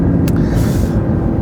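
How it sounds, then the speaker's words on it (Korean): McLaren 650S sports car engine revved hard toward 6,000–7,000 RPM, a loud, steady, dense roar lasting the whole short moment, with a brief sharp hiss near the start. "엔진 소리는 뭐 요정도 잘 들어갔을래나 모르겠네요."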